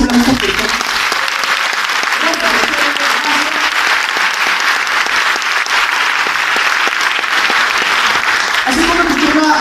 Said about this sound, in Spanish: Les podría dar un fuertísimo aplauso